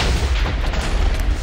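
Bombing explosions in a Minecraft game, a dense run of deep booming blasts and rumbling bursts packed together over little more than a second, loud and close with no speech.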